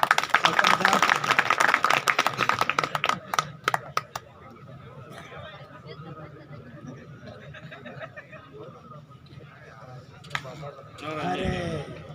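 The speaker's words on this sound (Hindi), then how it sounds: "एक बार जोरदार तालियां।" Loud, dense clapping from an audience at a Hindi poetry gathering in Nalkhadi, fading after a few seconds into crowd chatter and murmuring with a few scattered claps.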